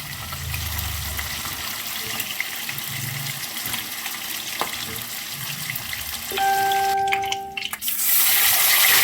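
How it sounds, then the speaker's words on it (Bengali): Pieces of rohu fish fry in hot oil with a dense, continuous sizzle. A running tap briefly cuts in near the end. "মাছগুলো ভালো করে দু পিঠটা ভালো করে ভেজে নেব।"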